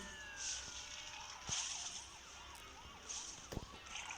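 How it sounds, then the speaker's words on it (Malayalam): A faint ambulance siren wails in rising and falling sweeps, heard from a distance over low background noise. "ആംബുലൻസ് വരുന്നുണ്ട്"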